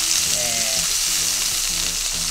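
Pork steak frying in a pan over medium heat, giving a steady, dense sizzle that stays loud and close throughout with no speech.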